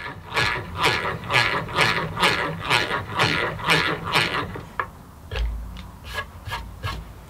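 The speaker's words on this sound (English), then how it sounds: "It's drilling a hole!" A restored egg beater hand drill grinds rhythmically in repeated even strokes, about ten passes, then a few sharper clicks and a low thump near the end.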